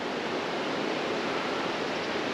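Constant, even roar of distant falling water from a waterfall along Lava Creek in Yellowstone, broadband and unchanging, with no voices over it.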